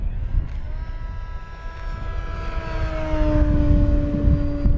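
FMS de Havilland Beaver 2000mm RC model plane flying, a steady electric motor whine with rising and falling tones, swelling louder toward the end.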